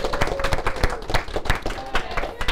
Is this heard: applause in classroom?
yes